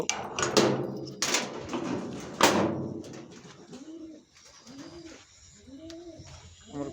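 A racing pigeon coos in a rolling, repeated burble, three clear phrases in the second half, following loud broadband rustling and knocking noises up close.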